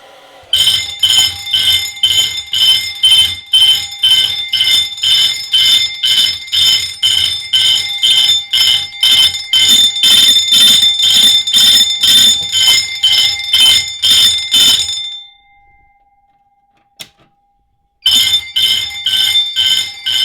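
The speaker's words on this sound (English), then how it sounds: "So let's get this hair dryer set up. Make sure it's off. Plug it in. Whoops. And set it on the highest setting." A fire alarm on a test board, set off by a hair dryer on its highest setting heating a heat detector, sounds loud, rapid, ringing pulses for about fifteen seconds, stops briefly with a single click, then starts pulsing again.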